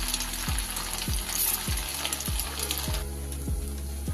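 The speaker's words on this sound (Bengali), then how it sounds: "এবার আমি এক এক করে ছানার বড়াগুলো ভেজে নেব।" Chhana fritters deep-frying in hot rice bran oil, a steady close sizzle and bubbling throughout, with soft periodic low thumps as pieces are added or stirred.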